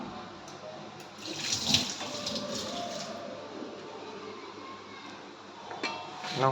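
Tap water runs steadily into a sink while fish are washed, with splashing bursts and handling noise close by throughout, swelling near the start and the end.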